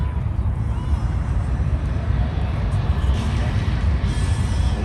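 An aircraft at an outdoor Alaska airshow gives a loud, constant broadband roar that fills the whole stretch with no break, with no clear voices over it.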